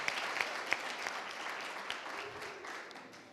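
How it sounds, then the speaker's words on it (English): Audience applause for master's and honours competition winners at a university research competition final, a moderately faint, steady wash of clapping with a few sharper claps early on that thins out toward the end. "A round of applause for all the master's winners and honors."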